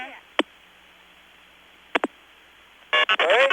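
Telephone line tones on a long-distance call from Singapore: a few short sharp clicks or blips, then a louder burst of warbling electronic tones near the end, alone and fairly close.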